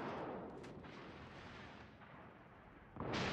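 Warship guns firing during a World of Warships clan battle, a booming salvo that rumbles and slowly fades, then another sharp blast near the end, loud and close with no talk.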